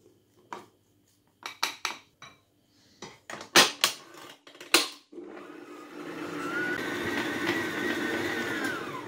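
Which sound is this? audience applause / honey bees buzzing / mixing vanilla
mixing vanilla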